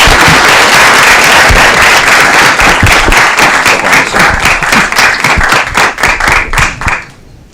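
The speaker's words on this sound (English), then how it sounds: "Let's give Rich a big round of applause." Loud applause from a city council meeting audience honoring an award recipient, dense clapping sustained for about seven seconds before fading out abruptly at the end.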